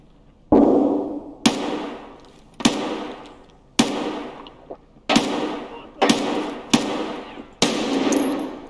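Gunfire in the video game Escape From Tarkov, with about eight sharp, loud shots spaced roughly a second apart, each trailing off with a short echo.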